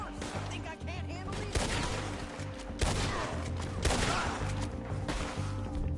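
Rapid pistol fire from two handguns in Red Dead Redemption 2, a loud, dense run of sharp cracks packed close together over steady game music and background noise.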